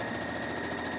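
A sewing machine hums and whirs steadily with a fast, even mechanical rattle, running continuously for about a second.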